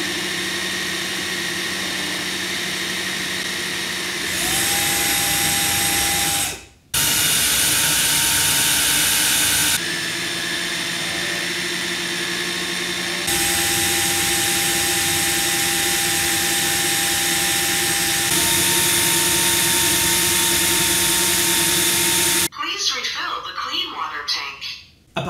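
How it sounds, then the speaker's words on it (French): A JIMMY PW11 Pro Max wet-dry vacuum runs its self-cleaning cycle, washing its two brushes with water and drying them with hot air. A loud, steady motor whir drones close by, shifting tone in stages and briefly cutting out. "De l'eau va être envoyée ici, en bas. Et globalement, ça va laver ensuite les deux brosses et le tout va sécher avec de l'air chaud."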